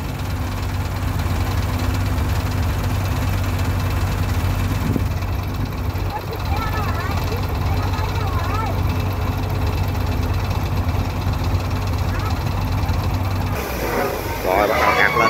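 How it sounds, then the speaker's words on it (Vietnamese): The engine of a sand boat runs steadily after being started, a loud, close, continuous mechanical drone with knocking vibration and no pause throughout. "Rồi đã nổ máy luôn rồi nè, hay quá."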